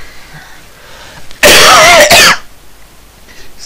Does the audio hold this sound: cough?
yes